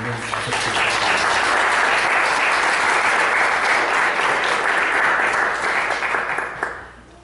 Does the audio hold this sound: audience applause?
yes